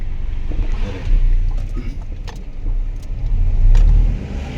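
Engine noise of a car on the road, a steady low rumble that swells and fades as vehicles move, with faint clicks and no talking.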